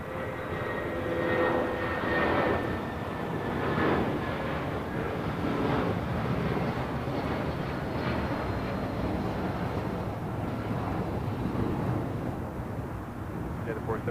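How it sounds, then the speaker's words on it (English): United Boeing 757-300 jet rolling down runway 25 right at LAX on takeoff, a loud sustained engine roar with a broad rumbling wash and radio chatter talking over it. "We got that United 757 now rolling down 25 right"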